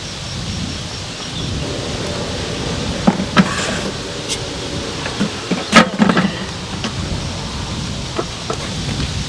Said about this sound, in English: We're boiling some rice.